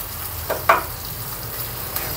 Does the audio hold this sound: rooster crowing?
no